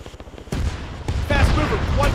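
Gunfire rings out in the Arma 3 military game: rapid bursts of shots, close and loud, with a soldier's voice shouting over them.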